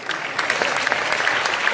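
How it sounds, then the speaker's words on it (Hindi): Crowd at a Hindi poetry recital bursting into loud, dense applause after a poem, a continuous roar of many hands clapping with faint cheering mixed in. "थालियों की कविता बजाइएगा तालियां।"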